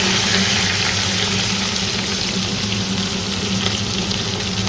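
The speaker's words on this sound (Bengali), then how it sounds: "এখন মুড়োগুলো ভাজতে দিয়েছি। এটা এখন ফুটুস ফুটুস করে ভাজবে" Fish heads fry in hot oil with a loud, continuous close sizzle and dense sputtering that holds steady throughout, with no voices.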